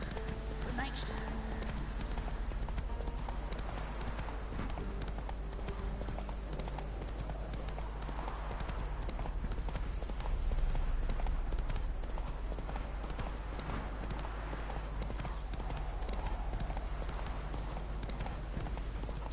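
Horse hooves clip-clopping in The Witcher 3 video game, a continuous steady trot of hoof falls under a low constant hum, with a voice speaking over it.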